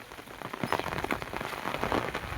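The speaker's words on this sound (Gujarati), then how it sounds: "વરસાદ પડે છે તળપડિયો." Steady rain pours down on a village road on the way to a farm field during a heavy downpour, a dense, continuous hiss of drops striking wet surfaces with no voices.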